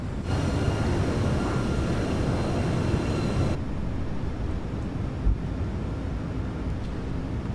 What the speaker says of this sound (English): lower the landing gear. Landing gear out.